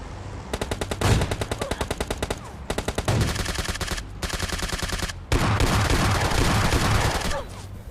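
Automatic gunfire in PUBG Mobile Lite rattles in rapid bursts separated by short pauses, loud and close with heavier shots mixed into the last long volley.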